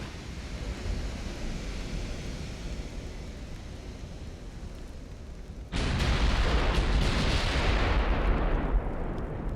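Heavy battleship guns in the naval combat game Ultimate Admiral: Dreadnoughts, a continuous booming rumble of gunfire that jumps sharply louder about halfway through and stays dense and roaring, with no talking.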